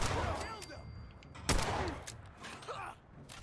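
Gunfire in the video game Fallout 4, with several sharp shots breaking through a busy background of game noise, one loud crack standing out mid-clip.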